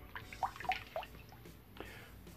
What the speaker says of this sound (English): so let's throw a little bit of water on the face